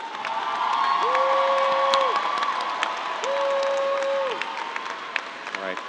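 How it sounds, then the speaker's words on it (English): An audience at the REACH! Partnership School graduation in Baltimore breaks into sustained applause with scattered cheers and whoops, a broad crowd sound filling the hall, and two long whistle-like tones ring out over it. "Can we all give them a collective round of applause?"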